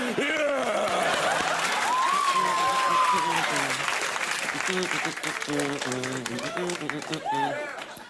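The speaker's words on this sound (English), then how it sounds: "A pause, gasps of horror, and then a round of applause." A late-night TV studio audience breaks into a sustained round of applause, with some whooping and laughter layered in, and a host's voice talking over the clapping as it fades near the end.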